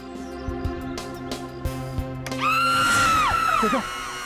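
A woman's loud, sustained scream from a Hindi crime drama rises suddenly after a stretch of thuds and background noise, holding high and piercing for over a second before breaking off.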